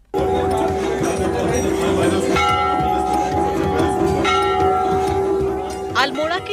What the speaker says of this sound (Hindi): अल्मोड़ा के चितई गोलू देवता के मंदिर परिसर में लाखों घंटियां और अर्जियां